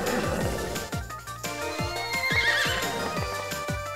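Horse whinnies repeatedly over game music in Miitopia, a Nintendo role-playing game, with clip-clop hoofbeats and a steady rhythmic backing track, no talking.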